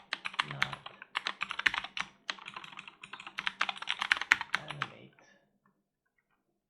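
Rapid typing on a computer keyboard, a close, quiet run of clicking keystrokes in bursts that stops after about five seconds, followed by near silence and a brief spoken word.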